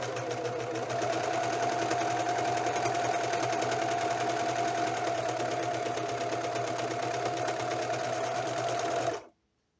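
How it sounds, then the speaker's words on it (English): Serger sewing machine running steadily to stitch the shoulder seam of a house robe made from a blanket, a loud, close, continuous mechanical whir that stops abruptly near the end. "to do the serger stitch, and it's one of the shoulders."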